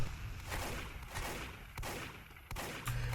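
Faint, distant shotgun blasts in a Team Fortress 2 arena match on 2fort, three or four sharp reports spaced about a second apart over a steady background hum.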